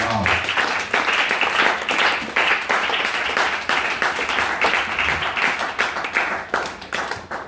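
A church congregation claps and cheers loudly in praise of the Lord, a dense, steady wave of applause with scattered shouts that continues through the whole moment.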